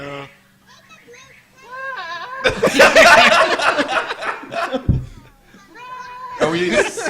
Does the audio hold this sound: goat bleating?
yes